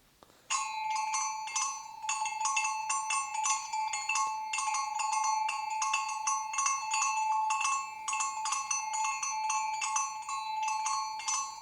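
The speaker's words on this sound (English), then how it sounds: "You have La Cucaracha, which is a really popular song." A Trek BellBeats electronic bike bell plays La Cucaracha as a bright, quick, repeating jingly tune, loud and close, looping through several phrases without pause.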